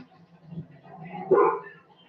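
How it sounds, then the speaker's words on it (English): A pit bull gives a short bark or two, close and fairly loud, mixed with voices. "your pit bull is scaring me"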